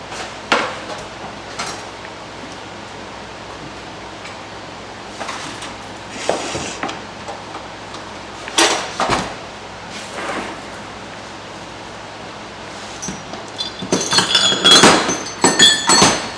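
A metal meat grinder is set down and shifted across wooden boards in a cooking class, giving scattered knocks and clinks that cluster into a busier burst of clattering near the end, with no talk.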